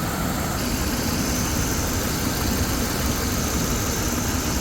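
A 2005 RAM 1500 4x4 truck's replacement 5.7L HEMI engine rumbles steadily at idle, close and constant, with a dense low drone and no voices.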